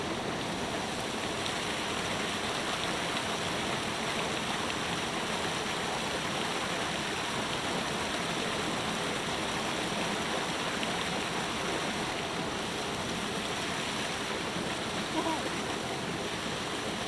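A small woodland waterfall cascade flows in a steady, continuous rush of water, close and fairly loud, with no talking over it.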